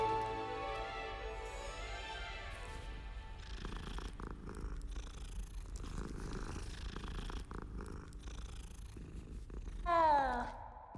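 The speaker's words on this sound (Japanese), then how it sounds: "あ、猫だ。" A cat purrs in the video game Hogwarts Legacy, a steady close rumble running under game music and ambience, followed near the end by a short rising cat call.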